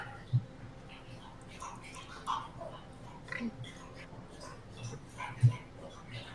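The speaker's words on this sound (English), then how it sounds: "That's a very loud dog." A dog barks loudly a few times, spaced-out close barks over a murmur of low background chatter.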